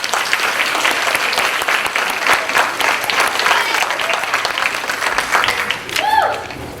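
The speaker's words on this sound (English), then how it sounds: "Let's give them one more round of applause." Audience applause for middle school contest winners at a district literacy competition awards, sustained dense clapping from a large crowd, steady and loud for several seconds, tapering slightly near the end.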